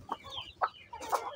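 Native hens and their chicks on a home farm cluck in a few short, close bursts at a steady, moderate level. No one is speaking.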